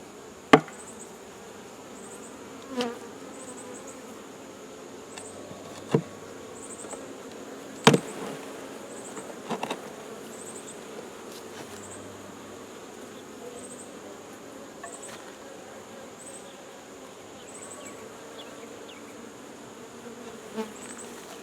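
Honeybees buzz steadily at an open beehive being readied for winter, a soft continuous hum with a few sharp knocks and clicks from handling the frames, no voices.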